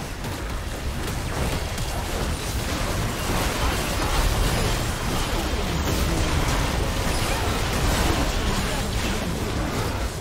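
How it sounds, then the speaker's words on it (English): A turret being destroyed in League of Legends, heard as a dense, sustained crackling roar of explosions and battle effects that stays loud and steady from start to finish. "Blue team's turret has been destroyed."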